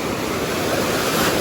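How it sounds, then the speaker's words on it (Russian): Strong wind roars over sea waves breaking on a beach in Turkey, a dense, steady, loud wash of surf and gusts with no talking. "Сегодня ветрено очень сильно."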